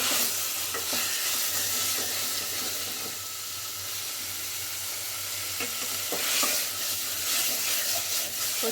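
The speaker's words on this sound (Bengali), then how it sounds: "কচু ও আলু দিয়ে আমি মশলার সঙ্গে কষিয়ে নিচ্ছি" Taro and potato being stir-fried with spice paste in hot oil, a steady close sizzle with scraping stirs throughout, no talking.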